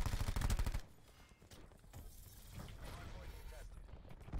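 Rapid submachine-gun fire from the GKS SMG in a video game, a dense, loud burst of rounds opening the moment, then quieter rattling shots and game noise with a voice talking over it.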